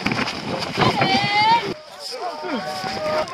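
Gusty wind rumbles and buffets the microphone outdoors among waves, mixed with splashing water and voices talking.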